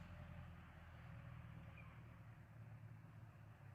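Faint, distant vehicle engine at night, a steady low rumble that holds for several seconds with no other clear sound over it.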